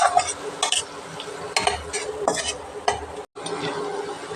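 Homemade garam masala and spices frying in oil in a pan, stirred with a utensil; scraping strokes come in bursts over a steady sizzle, close and fairly loud, with a brief silence near the end.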